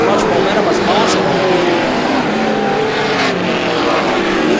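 A race car laps Star Speedway during a GSPSS 100 race, its engine roaring loud and steady as it runs the back stretch, with commentary heard over the noise.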